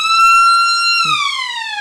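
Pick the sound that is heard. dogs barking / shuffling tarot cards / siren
siren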